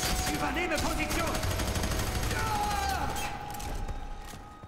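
Rapid gunfire rattles in dense bursts during a co-op firefight in F.E.A.R. 3, loud and close, fading toward the end.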